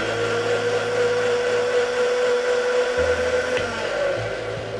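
A blender running on high, whirring through a saffron, tomato and butter sauce with a loud, steady motor drone and a slight pitch wobble throughout, with no voices.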